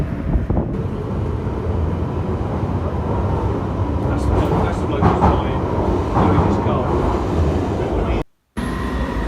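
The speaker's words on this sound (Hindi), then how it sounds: "ले ट्रेन आ गई है, अब इसमें चलते हैं।" A train pulls into a London station with a loud, steady rumble. Wind buffets the microphone and a voice talks over the noise.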